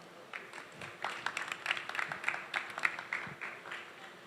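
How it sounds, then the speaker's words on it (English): Audience clapping at a conference session on Africa's gig economy, faint and distant, a loose patter of hands that swells after the first half-second and keeps going steadily throughout. "We can keep clapping."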